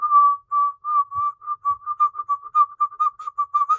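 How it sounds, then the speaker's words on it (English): A person whistles with the mouth in a steady run of short, clear notes that come quicker toward the end, close and fairly loud with no talking. "if you start to get that whistle sound"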